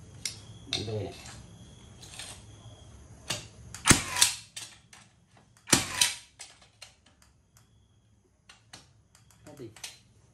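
A NaiLTask DCCN100X2M 18V battery concrete nail gun fires several sharp, loud bangs among clicks and mechanical handling noises, with someone talking intermittently between the shots.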